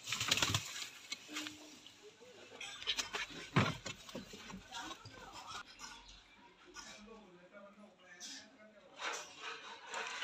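Pigeons coo softly amid rustling and occasional wing flaps, with people talking over much of it.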